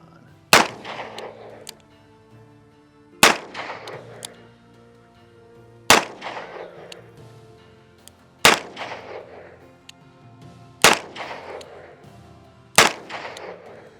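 Six loud Colt Python revolver shots, fired one at a time a few seconds apart, each a sharp crack with a ringing tail that fades before the next, heard close up.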